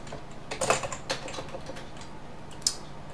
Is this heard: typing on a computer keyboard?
yes